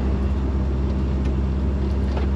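An LS-swapped Chevrolet Nova bracket car sits running, a steady, dense engine rumble held close and loud for a couple of seconds with no voices over it.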